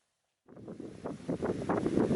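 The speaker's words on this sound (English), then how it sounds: "Windy." Wind gusting along a country lane lined with old hedges in the Black Mountains, a broad rushing buffet against the microphone that starts abruptly and swells steadily louder, with no voices.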